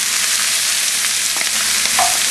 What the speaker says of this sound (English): so now we're going to saute some onions